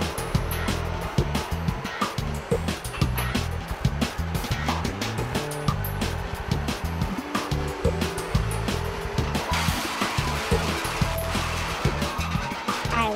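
A skid steer hoists and moves old wheels, its engine churning loudly and continuously close by with rattling and clanking mixed in and a harsher surge toward the end.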